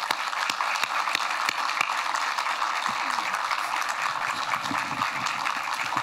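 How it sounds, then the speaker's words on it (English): A lecture audience gives a round of applause, a steady dense patter of many hands from across the hall, with a few sharper nearby claps standing out. "a big round of applause."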